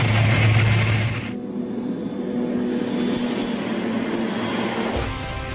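A crop-dusting airplane takes off: a loud, broad engine roar that drops slightly after the first second, then settles into a steady, sustained drone until the end, with no voices.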